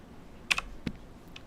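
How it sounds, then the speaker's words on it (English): Computer keyboard keys clicking during a live stream: a few scattered, quiet keystrokes in a brief burst, then two isolated taps, with no voices. "It's just like the typing is weird."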